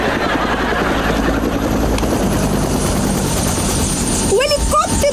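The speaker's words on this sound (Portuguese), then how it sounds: "O helicóptero de reportagem!" A news helicopter's steady rotor roar fills the scene, loud and close, with a brief chirpy voice cutting in near the end.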